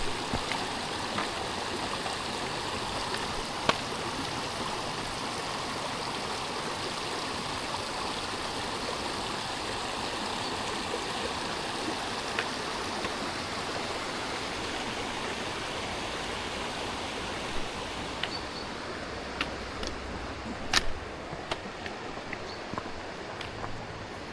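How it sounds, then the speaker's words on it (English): A waterfall and stream in Wharfedale, rushing water roaring steadily and evenly nearby, with a few faint clicks and bumps toward the end. "this time we went to have a look at the waterfall"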